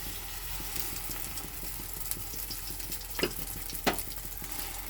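An oats omelette fries in hot white cooking oil in a pan, giving a steady close sizzle with a couple of brief sharper crackles and no talk.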